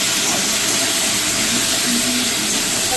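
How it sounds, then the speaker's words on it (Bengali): Sliced potatoes dropped into hot oil with black cumin, giving a steady, loud, close sizzling hiss that continues unbroken for the whole moment, with no talking. "এবার দিয়ে দেবো আলুটা।"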